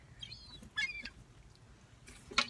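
Seagulls squabble while being fed, giving a few short, fairly faint squawks and cries spread across a couple of seconds, with a sharper burst of calls near the end.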